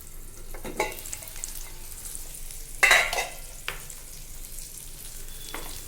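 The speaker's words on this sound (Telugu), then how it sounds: "ఉల్లిపాయ, పచ్చిమిర్చి వేగినాయి కదండి, బాగానే వేగినాయి." Onions and green chilies fry in a pan for a cabbage and moong dal stir-fry, a soft continuous sizzle broken by a few close scrapes and knocks of a stirring spoon, one louder scrape midway.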